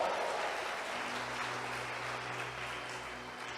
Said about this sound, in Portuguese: Dá um aplauso aí para Jesus